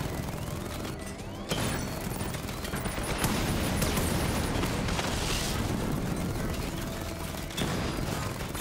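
Gunfire and explosions from the video game Batman Arkham Knight, a dense, loud, continuous barrage of shots and blasts with sharp bursts at intervals, no talk over it.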